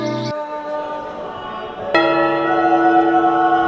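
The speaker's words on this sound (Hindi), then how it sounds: "मंदिरों की घंटियां" Temple bells ring with sustained metallic tones, one strike decaying and a second clear strike ringing on, fairly loud and close.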